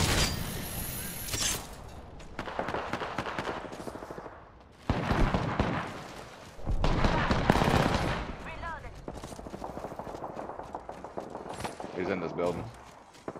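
Rapid automatic gunfire from an Apex Legends match hits the player, coming in loud bursts with impact clatter between quieter stretches, while a player talks over the action.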